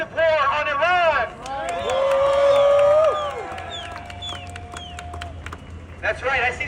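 A street protest crowd in Los Angeles against war on Iran, with loud cheering, whistles and a shouting voice over a constant babble of many people.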